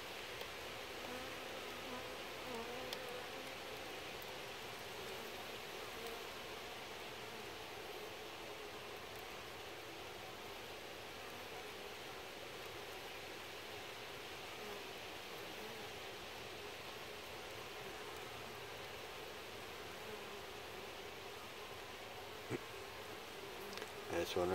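Honey bees buzz steadily in a close, dense hum at the entrance of a beehive, a continuous drone holding level throughout with no talk over it.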